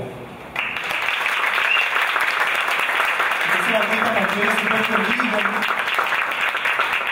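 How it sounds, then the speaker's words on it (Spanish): A stand-up comedy audience applauds a comedian's entrance: sustained, dense clapping that starts abruptly and carries on steadily, with someone talking over it. "Entra el artista y ustedes aplauden"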